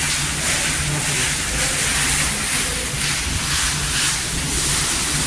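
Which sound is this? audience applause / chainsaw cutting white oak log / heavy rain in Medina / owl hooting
heavy rain in Medina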